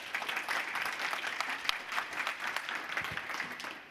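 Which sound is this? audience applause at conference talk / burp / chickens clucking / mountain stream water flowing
audience applause at conference talk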